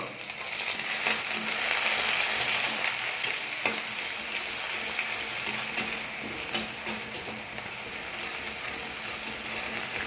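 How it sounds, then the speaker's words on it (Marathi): Finely chopped onion fries in hot oil with mustard seeds and shahjeera for a cabbage dish, a dense constant sizzle broken by scraping stirs and small spattering pops, close and without voices. "एक सोनेरी रंग येईपर्यंत फ्राय करायचा"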